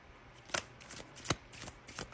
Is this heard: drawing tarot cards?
yes